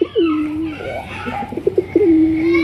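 A pair of red-eyed pigeons of a fancy breed coo at close range, several low rolling coos with short bursts between them, loud and clear with no talking.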